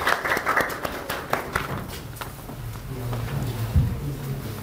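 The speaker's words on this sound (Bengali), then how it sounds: "করতালি হবে তার জন্য" An audience claps for a second-place winner at a freelancing course event. A burst of scattered hand claps in the first couple of seconds thins out into quieter room noise with a low hum.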